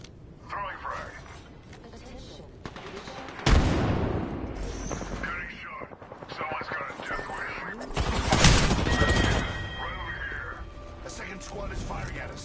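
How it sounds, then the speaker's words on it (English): Enemy squad gunfire in a combat video game: bursts of shots, loud near the start and again midway, mixed with mechanical clatter, under speech. "Squad is firing at us."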